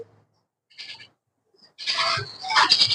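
Caged Australian doves give short, soft calls close by: a brief call early, a pause, then a denser run of chirping notes toward the end, against otherwise quiet surroundings.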